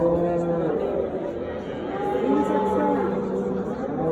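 A large cow moos in long, loud, drawn-out calls at a crowded livestock market near Parkent, Tashkent, with people talking and chattering in the background.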